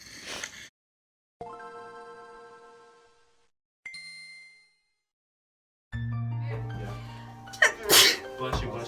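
A person sneezes several times while dyeing their hair, loud bursts near the microphone separated by pauses, with bright chiming tones and clatter in between and a busy burst of sound at the end.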